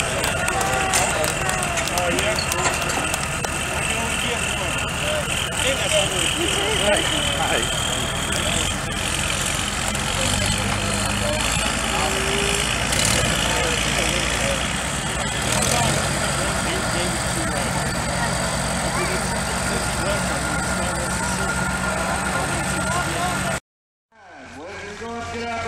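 A 1947 Minneapolis Moline antique tractor pulling at an old-time farm day tractor pull, a steady loud engine drone running for a long stretch while an announcer talks over it, then cutting off abruptly near the end.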